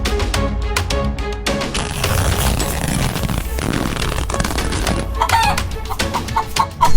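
A chicken clucks repeatedly and loudly close by, with a few sharp squawks and light tapping sounds mixed in.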